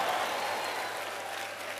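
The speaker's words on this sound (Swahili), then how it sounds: "Pigia Bwana Yesu makofi useme ndio" Congregation applause at a Kenyan apostolic church service, honoring Jesus: a steady, dense wash of clapping from a large crowd, fairly distant and even throughout, fading slightly toward the end, with no talk over it.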